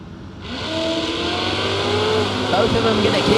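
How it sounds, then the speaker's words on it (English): A Firebird and a Mustang drag racing at a footbrake event, engines roaring loudly and rising in pitch as the cars launch, with an announcer talking over the noise. "Firebird going to be chasing down the Mustang."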